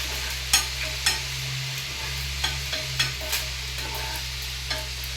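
Tempering with asafoetida frying in a pan for cucumber dal, a steady soft sizzle under a low hum, with sharp clicks and scrapes as a spoon stirs at intervals.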